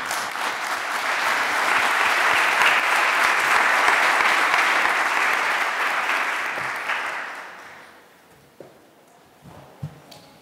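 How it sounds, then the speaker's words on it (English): Symposium audience on housing and health applauding award recipients, a full, dense round of clapping that holds steady for several seconds, then tapers off to a few scattered claps and quiet. "a round of applause for all our recipients today"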